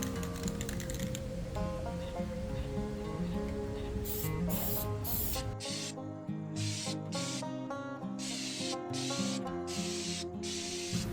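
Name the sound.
spray painting Bronco jerry can holder parts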